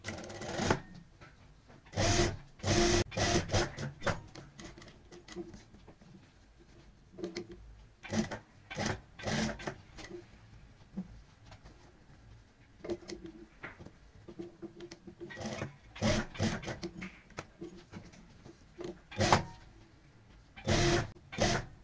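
Sewing machine stitching piping onto the collar of a kurti, with repeated short bursts of fast mechanical whirring and needle clatter separated by quiet pauses, close and fairly loud.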